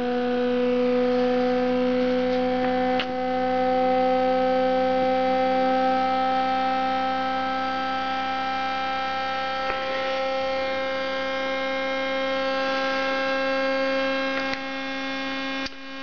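Muller motor spinning under a 1 ohm resistor load, giving a steady electrical hum with strong tonal harmonics, alone and constant, with faint clicks and slight shifts in pitch as it runs.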